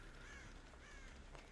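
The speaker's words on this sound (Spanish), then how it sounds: "Los cuervos han alertado." Crows caw twice from a short distance in a Dead by Daylight match, harsh drawn-out calls rising over a low, murky ambient rumble.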